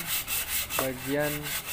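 Fine sandpaper rubbed over the surface of a Honda Vario Techno scooter radiator, making close, steady back-and-forth scraping strokes with a brief tonal whine partway through.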